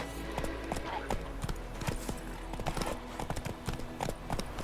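Geralt's horse trots in Witcher 3, a steady rhythm of hoof clip-clops on the ground, moderately close, over a low background rumble, with no speech.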